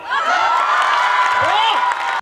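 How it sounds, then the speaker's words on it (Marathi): Women cheering at a Maharashtra Jatrotsav fair game show, a loud, sustained burst of shrieks and whoops from a crowd for about two seconds before cutting off abruptly. "हा जल्लोष आणि उत्साह आहे भव्य महाराष्ट्र जत्रोत्सव मधील महिलांचा"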